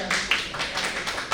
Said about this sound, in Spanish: Un aplauso, por favor, para ustedes.